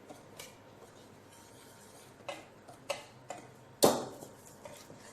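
A spoon mixes flour and cocoa powder in a bowl for a chocolate cake, giving sparse, faint clicks and soft scrapes against the bowl, with one sharper knock near the end.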